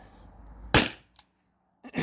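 A single sharp shot from a blue T4E HDP50 launcher running off a 20 oz CO2 tank, a loud close crack with a short hiss after it, then near silence and a brief noise at the end.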